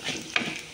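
Curd rice tempering sizzling in oil in a pan, a short steady frying hiss with one small crackle near the middle, close and alone.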